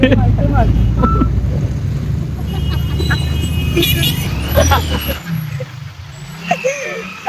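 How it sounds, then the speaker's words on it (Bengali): A bus approaches along a busy road amid steady traffic rumble and engine drone, with a brief high tonal whine near the end, while people talk over it close by. "এইটা বাস আসছে"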